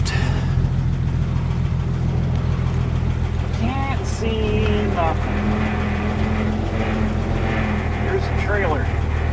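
A 1959 Willys Jeep engine drones steadily in low range while hauling a heavy trailer load over soft ground, a loud, close, continuous mid-pitched rumble with brief creaks and rattles over it.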